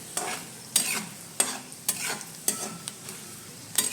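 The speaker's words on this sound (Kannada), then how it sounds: "ಸ್ವಲ್ಪ ಆಯಿಲ್ ಡೀಪಾಗಿ ಅಂದರೆ ಬ್ರೌನಿಷ್ ಬರೋ ಥರ ಫ್ರೈ ಮಾಡಬೇಕು." Chana dal fries in oil in a pan and is stirred with a spoon, making a steady soft sizzle broken by about eight sharp scraping strokes at a brisk, roughly even pace, close by.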